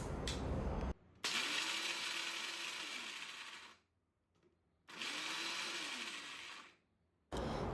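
A mixer grinder coarsely grinds cooled roasted peanuts in two loud whirring bursts, each spinning up and winding down, separated by short silences.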